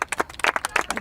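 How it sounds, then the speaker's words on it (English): Spectators at a girls' high school varsity soccer game clap in a quick, sharp, close burst of separate hand claps, a small group for about a second. "Should we clap for Sophia?"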